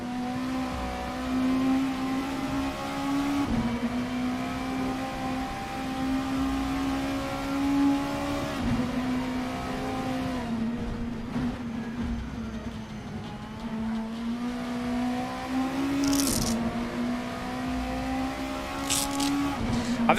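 Vauxhall race car in the Le Mans Virtual racing game: a steady, droning engine hum that rises and falls through gear changes, with other cars whooshing past now and then.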